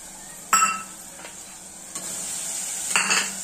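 Mixed vegetables dropped into hot tempering oil, sharp bursts of sizzling at the moment of adding, then a lighter continuous hiss with utensil clinks.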